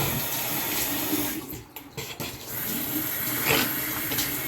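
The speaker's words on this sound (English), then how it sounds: "we're just going to do a quick shower here" Water from a shower head runs in a steady hiss, briefly dipping and shifting as something moves through the spray, then resuming at an even level.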